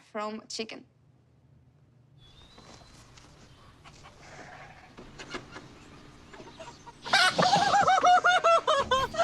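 Chickens cluck and squawk close by, brief bursts at the start and a louder flurry of hen calls near the end, with faint voices talking in between.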